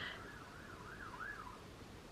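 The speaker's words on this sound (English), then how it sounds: "Oh, there's a police alarm." Police siren wailing in the distance, a faint rising and falling tone that sweeps up and down several times over steady background hum.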